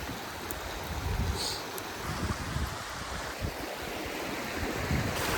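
A river in Iceland rushes steadily nearby, a dense continuous wash of water noise mixed with some wind buffeting on the microphone.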